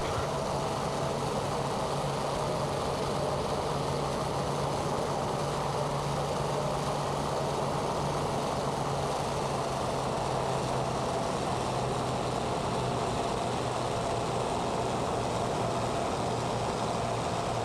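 C-130 turboprop engines in a flight simulator game, a steady, unbroken engine drone with a low sustained hum, constant and moderately loud throughout, with no talking.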